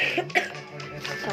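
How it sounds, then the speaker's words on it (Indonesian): A single short cough, close and fairly loud, followed by a brief throat-clearing sound during a gaming session, with a voice speaking briefly around it. "Sorry aja kita batuk."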